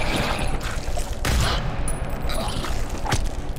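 Sustained gunfire in the shooter game GTFO, a loud dense barrage with a few sharper impact cracks standing out, continuous from start to finish.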